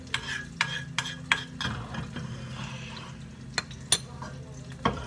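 Tomato sauce simmering in a pan is stirred with sharp spoon knocks against the metal at irregular intervals, over a steady low bubbling and sizzle.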